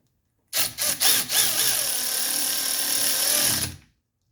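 A 10 mm power tool drives the fastener for a brake pad wear sensor on a 1985 Surf Wagon: a few short whirring bursts, then a steady close, loud motor run of about three seconds that stops abruptly.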